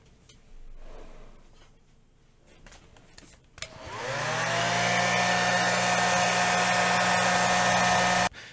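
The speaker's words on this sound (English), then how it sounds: "we're just going to grab our hairdryer and dry it" A hair dryer switches on partway through and blows loud and steady close by, drying a paper origami two-headed dragon, after a few quiet seconds of faint handling noise.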